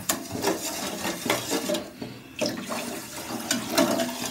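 Water is poured into sugar in a pan for gulab jamun syrup, giving a continuous splashy gurgle with uneven pulses and a short pause, close and moderately loud.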